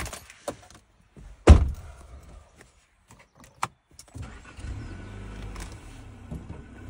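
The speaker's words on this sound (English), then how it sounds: "How guys get in their car?" A man gets into his car: a few scattered clicks and handling sounds, one loud door slam, another knock, then the engine starts and settles into a steady low idle.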